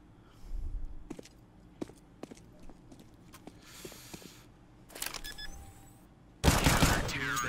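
Sharp video game USP pistol shots crack out one at a time at irregular intervals amid mechanical clicks, followed by a louder burst of noise near the end.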